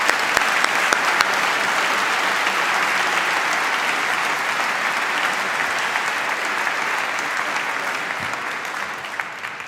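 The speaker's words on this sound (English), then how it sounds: "A big round of applause for Professor Insitcher." A large audience at an engineering graduation ceremony gives a long, steady round of applause, a dense wash of clapping that holds at even loudness for nearly ten seconds with no voices on top.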